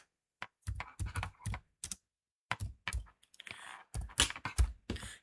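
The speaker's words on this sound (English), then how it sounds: "underneath the file name, what you do is you type the file name" Keys clatter on a computer keyboard as a file name is typed into a save dialog in Excel, bursts of quick clicks with short pauses between, close and fairly quiet, no voices.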